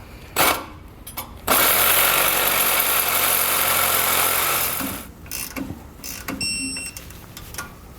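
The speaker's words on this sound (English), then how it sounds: "We're going to be using a Sawzall here." A Sawzall reciprocating saw trims the excess length off a steel U-bolt while air helper springs are fitted to a 2016 Ford truck. It gives a loud, steady buzzing run of a few seconds between scattered clanks and knocks.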